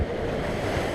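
Ocean waves wash steadily behind the sailboat Swan on a Mexico to Marquesas passage, with 14 to 15 knot winds, forming a continuous close rush of surf mixed with wind buffeting the microphone.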